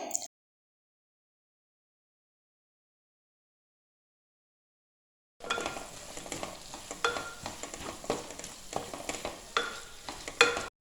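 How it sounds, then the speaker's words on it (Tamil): Onions sautéing in a pan with salt, ginger and garlic paste for vegetable biryani, heard only in the second half after a long silence as a sizzle with frequent spatula scrapes and taps, close and moderately quiet. "இந்த வெங்காயம் நல்ல கோல்டன் கலர் ஆவன வரைக்கும் நல்லா வதக்கிடலாம்"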